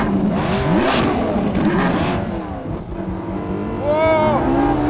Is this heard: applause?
no